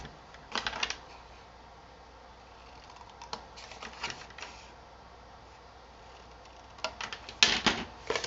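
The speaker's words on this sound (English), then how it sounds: "And I just cut right on those score lines." Scissors snip through paper along score lines while crafting, a few faint crisp cuts in short clusters against quiet room tone.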